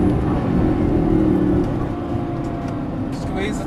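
A Lamborghini Gallardo engine drones steadily on a race track during a lap, loud and constant with a slight easing after the midpoint, with a voice talking briefly over it.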